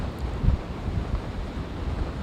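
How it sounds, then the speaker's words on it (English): Strong wind buffets the microphone with low, gusty rumbling as Storm Ophelia approaches, and surf rushes in the background at the beach. "Evan Kozlov, who is tracking this for us and showing us some pretty breezy conditions there along the beaches, Evan."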